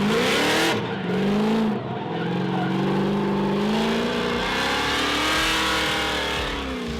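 A street car drifting with the handbrake, its engine revving hard and holding high with tyre squeal and skidding, loud and continuous.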